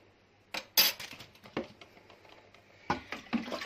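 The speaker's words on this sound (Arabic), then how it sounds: "وهبدا ادوب الملح والسكر ده كويس جدا" A spoon stirring salt and sugar into water in a pot to make pickling brine, giving a few scattered clinks and scrapes against the metal, close but fairly quiet, with no talking.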